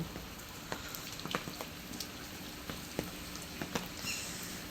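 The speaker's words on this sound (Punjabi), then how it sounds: "ਮੀਂਹ ਇੰਨਾ ਪੈਣ ਡਿਆ" Steady rain falls in a village, a soft continuous patter with scattered sharper drips close by, fairly quiet overall and with no one talking.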